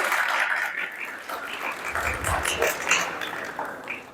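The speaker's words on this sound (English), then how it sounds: "Everyone, please clap your hands for Denise because she came in to hook me up with some internet." Students applauding in a university workshop room for a guest, steady soft clapping heard at a moderate distance, continuing for several seconds with no talk over it.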